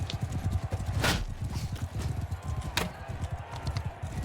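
Horses galloping in the Mount & Blade II: Bannerlord video game, with a rapid, continuous clip-clop of hooves close by and a couple of sharp higher hits over the rhythm.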